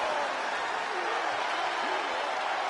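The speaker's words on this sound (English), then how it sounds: "The sound of this crowd is deafening" Arena crowd in the WWE 2K22 wrestling video game during an Undertaker vs Batista ladder match, a steady, dense roar of cheering that holds at an even level throughout.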